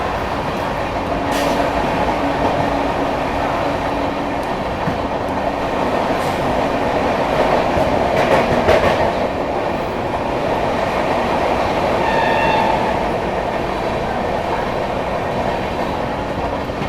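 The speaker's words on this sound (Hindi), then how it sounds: "यहाँ पर अपनी बिहार संपर्क क्रांति ने टूंडला जंक्शन स्किप कर लिया है" The 12566 New Delhi–Darbhanga Bihar Sampark Kranti Express runs through Tundla Junction without stopping, a loud, continuous rail rumble with rhythmic wheel clatter and occasional metallic squeals, no voices.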